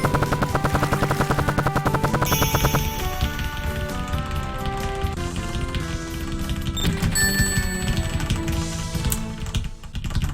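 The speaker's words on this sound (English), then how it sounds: "That noise is me spamming the keyboard, by the way, to skip the results screen." Rapid frantic keyboard mashing during a Sonic Robo Blast 2 speedrun, a dense fast clatter of keystrokes running under game music and effects throughout.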